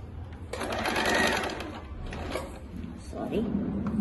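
A sewing machine runs in bursts as it stitches a zigzag edge onto a saree, its mechanical whir heard close and moderately loud under a voice speaking Telugu.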